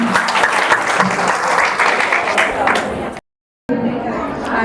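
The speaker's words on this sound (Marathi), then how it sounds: "स्वतःसाठी टाळ्या व्हायला पाहिजेत" Loud, dense applause from a women's health event audience with murmured chatter mixed in, breaking off abruptly into silence before resuming.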